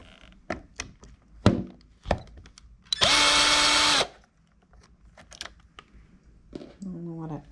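A power tool whirs in one loud, steady burst of about a second while removing screws from a motorcycle, surrounded by clanks, taps and handling knocks on the bike, close-up.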